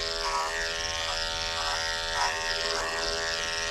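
Electric dog clippers fitted with a snap-on comb buzz steadily while skimming through matted dog hair, a close, continuous droning whine with slight dips in pitch as the blade works through the coat.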